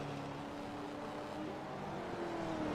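Loud, steady roar of V8 race car engines at Sandown, with rising whines as they accelerate past.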